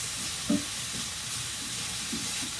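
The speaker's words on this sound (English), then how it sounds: "let's just toss these around the pan now here" Mushrooms tossed in a hot frying pan, a soft steady sizzle with a few quiet knocks and shuffles of the pan, fairly faint and without talk.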